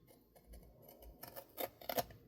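Scissors trim the stiff cardboard cover of a Little Golden Book, a few close, crisp snips and crunches growing louder toward the end, with no talking.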